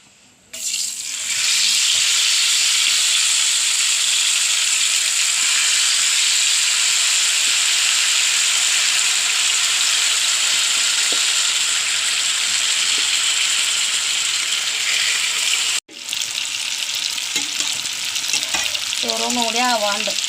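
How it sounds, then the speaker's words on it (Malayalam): Chicken frying for biryani in the same pan used for the rice, a loud steady sizzle with faint stirring scrapes running continuously for about twenty seconds, briefly cut off near the end before resuming. "അതേ ചട്ടിയിൽ തന്നെ ചിക്കൻ വറക്കണം."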